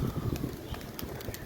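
Pigeons cooing close by, soft low throaty coos repeating in a quick uneven rhythm, with faint light clicks and no talking.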